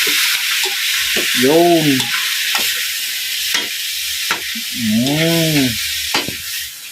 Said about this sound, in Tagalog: igigisa lang natin guys ang tahong